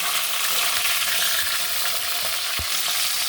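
Onions frying in hot oil with cloves and bay leaves in a home kitchen pan, a loud continuous sizzle close up with a single thud of stirring near the end.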